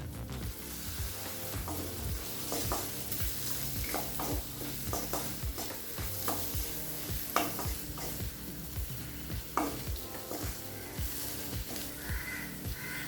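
Carrot and capsicum sautéing in a pan for carrot rice, a steady close sizzle with frequent scraping stirs and light clinks of the spoon against the pan throughout.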